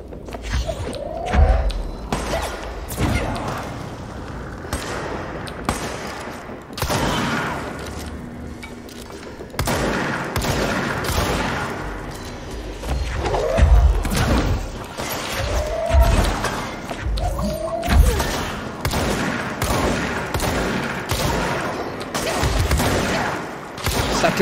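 Pistol shots ring out in the video game Control, sounding as sharp, scattered bursts of gunfire with thuds and mechanical clanks between them, irregular and fairly loud throughout.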